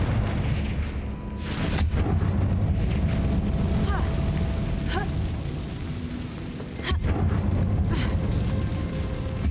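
Confringo blasting spell exploding in a video game: a couple of heavy booming blasts rise over a steady rumbling background of game sound.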